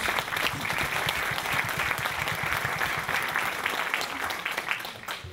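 An audience applauding in a studio, sustained dense clapping from many hands that stays loud and even throughout, easing slightly near the end.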